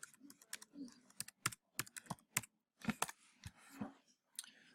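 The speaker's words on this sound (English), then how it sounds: "I'm going to type in animal portrait." Keystrokes on a computer keyboard sound nearby as a short typed phrase is entered, quick irregular clicks with brief pauses, fairly quiet and with no talk.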